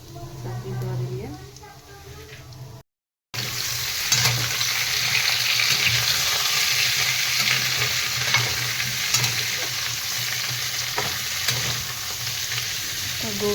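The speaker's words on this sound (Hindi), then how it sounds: "गरम तेल दऽ देलिए हिले, फिर फोरन दऽ दै छी।" Spices tempering in hot oil for a cauliflower and potato curry, with asafoetida, bay leaf, chili and cumin sizzling and being stirred, a steady close crackle that runs on after a brief break, with a voice speaking over it.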